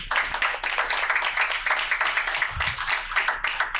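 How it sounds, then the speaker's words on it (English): Clapping rings out at a school board meeting for the high school music teacher, a lively patter of many hands that briefly dips and then picks back up, fairly close and steady. "Give her a round of applause."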